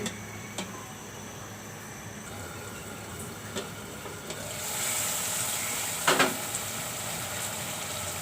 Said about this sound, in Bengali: এখন মশলাগুলো একটু কষিয়ে নিব, ঢেকে দিব আমি।